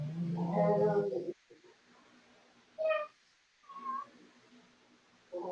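A person in a Pilates class imitates a cat, giving a drawn-out voiced meow followed by a couple of shorter, fainter mewing calls with quiet gaps between.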